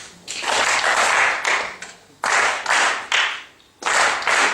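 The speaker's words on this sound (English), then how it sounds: "You might want to clap once and then get them to clap twice." A group of audience members claps in unison during a storytelling session, a short burst of clapping followed by further bursts, each dense and loud, with brief pauses between rounds.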